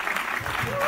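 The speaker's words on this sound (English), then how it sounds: "can we give a big round of applause to EO Hyderabad?" An audience breaks into applause at a South Asia learning summit on AI, a dense, steady wash of clapping that carries through the whole brief moment.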